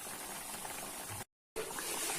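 Chicken katsu fries in hot oil in a home kitchen, giving a steady, dense sizzle that cuts out abruptly for a moment before resuming.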